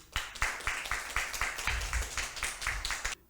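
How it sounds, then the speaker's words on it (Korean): Steady, even clapping from a group at a church missionary appointment ceremony, about a dozen sharp claps in a regular rhythm over a few seconds, close and fairly loud, with no talking. "박수."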